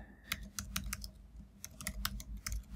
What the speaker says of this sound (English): I'm going to type out buttons add